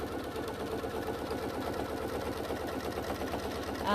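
A sewing machine stitches faux leather for a bag, running in a steady, fast mechanical whir of rapid needle strokes, close and continuous with no pauses.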